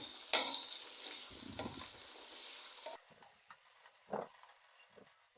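Potatoes frying in hot oil for spicy dhaba-style dum aloo, a steady broadband sizzle that runs the whole time with a few louder stirring clatters. No one speaks.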